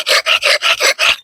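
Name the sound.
axe blade scraped on a cinder block to sharpen it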